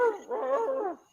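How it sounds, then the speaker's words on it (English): A Doberman whimpers in a single drawn-out, wavering whine lasting about a second, fairly close and clear, with no talking over it. "that's the other Doberman. He's upset."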